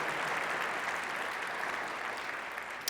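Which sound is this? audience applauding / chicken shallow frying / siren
audience applauding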